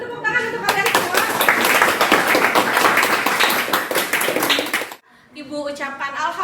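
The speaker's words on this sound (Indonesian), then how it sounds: "beri tepuk tangan untuk kalian semua" An Indonesian school class claps together in a cheese-making biotechnology lesson, a dense, lively applause lasting about five seconds before it stops abruptly and a voice starts speaking.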